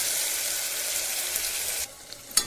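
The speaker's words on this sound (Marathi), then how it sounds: "तो पण चांगला तेलामध्ये असा कलसवू द्यायचा, परतू द्यायचा" Ground masala for stuffed okra sizzles and fries steadily in hot oil, a close, continuous hiss that drops away abruptly near the end with a faint clink.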